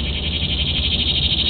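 Cicadas in deck-side trees give off a loud, continuous high-pitched buzz that holds steady and drones on without a break.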